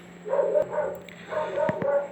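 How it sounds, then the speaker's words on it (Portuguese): A dog barks in two short bursts of yips and woofs, moderately loud and somewhat distant, with a couple of sharp knocks between. "E o cachorro também inventou de latir agora"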